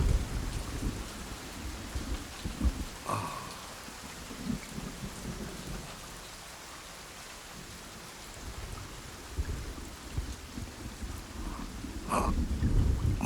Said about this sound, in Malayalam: മഴ കുറഞ്ഞു